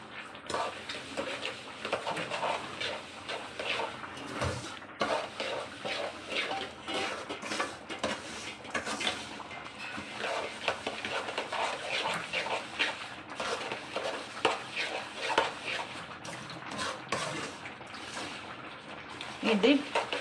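Sesame seeds are stirred nonstop for til laddu in a pan, a steady scraping and clinking of a utensil against metal running throughout, with a voice talking over it.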